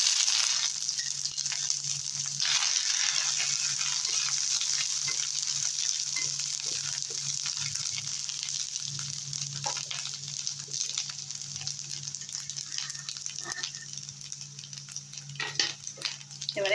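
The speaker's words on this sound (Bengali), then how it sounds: "এবারে দিয়ে দেবো শুকনো লঙ্কা, কালো জিরে ফোড়নে। আর দেবো থেতো করা আদা।" Dry red chillies, nigella seeds and crushed ginger sizzle steadily in hot oil as a tempering for spinach with jackfruit seeds, a bright continuous crackle with faint stirring clinks, close and unbroken throughout.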